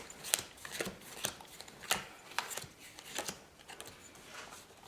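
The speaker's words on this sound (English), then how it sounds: "deal the cards out into two piles, going left, right, left, right" Playing cards dealt one at a time into two piles, alternating left and right, giving a string of soft, quick slaps and flicks at a steady rhythm, close and quiet with no talking.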